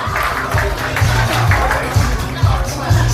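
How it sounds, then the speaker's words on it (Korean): Applause and crowd chatter at a Korean first birthday party, steady murmur of guests with clapping mixed under talk. "박수 한 번 부탁드리겠습니다"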